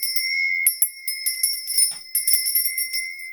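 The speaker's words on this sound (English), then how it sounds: "I'm going to be ringing a bell" A hand bell rung repeatedly in bright, piercing strikes with long ringing overtones, alone and fairly close, several rings trailing into each other across the span.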